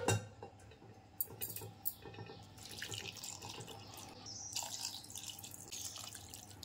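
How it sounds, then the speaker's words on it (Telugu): Water is poured into a bowl of flour for Madugula halwa, splashing and trickling continuously, with a light clink of kitchenware at the start. The sound is close and fairly quiet, with no talking. "3 కప్పులు వాటర్ వేసి"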